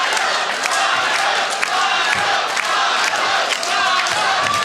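Wrestling crowd at an NWA show in Oak Grove cheering and chanting steadily, a dense, loud roar of many voices with rhythmic surges throughout.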